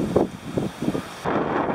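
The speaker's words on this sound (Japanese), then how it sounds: "すんごい強風。" Strong wind buffets the microphone at a free mountain campsite in autumn, a steady roaring rush with gusting surges, close and fairly loud, with no speech.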